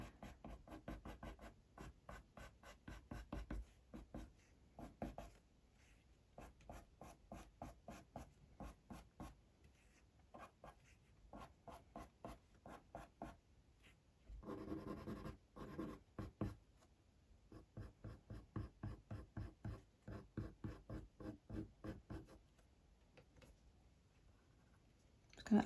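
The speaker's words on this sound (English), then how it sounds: "Remembering to flick each of my pencil strokes, keeping them really controlled and like delicate." Coloured pencil strokes on drafting film make quick, delicate scratching flicks in rapid bursts with short pauses between them, close and fairly quiet, with no voice.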